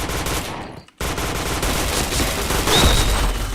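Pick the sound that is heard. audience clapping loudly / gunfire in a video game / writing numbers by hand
gunfire in a video game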